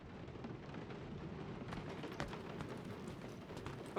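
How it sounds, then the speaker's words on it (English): Rain falling on the planet Seknarf 9 in Guardians of the Galaxy, a faint, steady hiss of drops with scattered soft patters and a low rumble underneath, continuous throughout. "Of course. It had to be raining."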